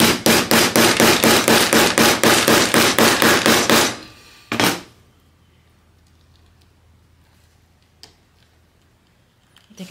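Rapid, loud, even banging with a piece of wood on a sewing project at a sewing table, about twenty sharp strikes in quick succession, then a single final knock and quiet.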